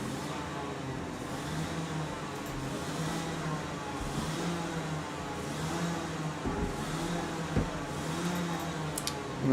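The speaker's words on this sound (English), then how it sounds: "And the sound of revving behind me once again." Rotax racing kart engines revving at a kart racing festival, a steady distant drone of several engines rising and falling continuously throughout, with a brief louder burst near the end.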